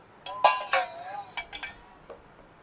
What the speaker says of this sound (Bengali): এটা প্লেটের মধ্যে তুলে নিচ্ছি।